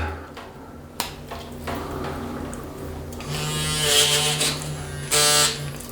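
A Gillette Fusion 5 Power razor buzzes with an annoying loose rattle during a shave, close and continuous. The buzz grows louder and rougher toward the end, broken by a sharp tick near the start.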